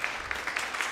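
Audience at a live comedy show in Walthamstow clapping, a brief, fairly soft patter of hands heard at some distance.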